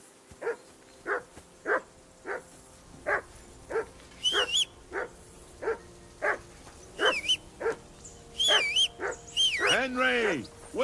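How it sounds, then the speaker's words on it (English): A dog barks repeatedly in the medieval game Kingdom Come Deliverance 2, a steady run of close, evenly spaced woofs, joined later by higher yelps and whining as the barking grows more frantic. "Whistle at that mutt of yours to stop barking."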